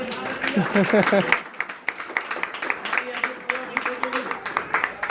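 A worship congregation gathered on a road claps along after a preacher's voice. The hand claps fall in a quick, fairly regular rhythm, close and crisp, continuing alone once the speaking stops.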